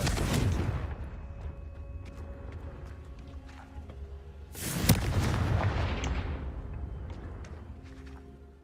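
Confringo fire spells blasting in the video game Hogwarts Legacy, two heavy booming explosions, the first at the start and a second, louder one midway, each rolling out into a long rumbling decay with no talking.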